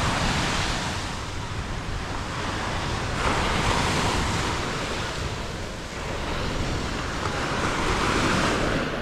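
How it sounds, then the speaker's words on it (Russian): Ocean surf rolling onto Miami Beach, waves washing in broad swells with steady wind buffeting the microphone, no talking. "Пойдем сейчас вам океан покажу."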